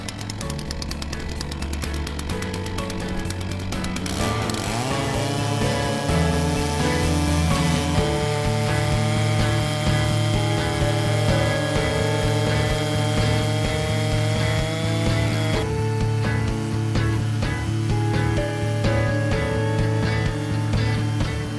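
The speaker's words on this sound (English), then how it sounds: "Hold far down on the chainsaw handle and the guide bar will cut easily through the log." Chainsaw fitted with a Logosol timber jig ripping lengthwise through a log, a loud, steady two-stroke engine roar with a continuous buzzing saw drone that holds near and constant throughout.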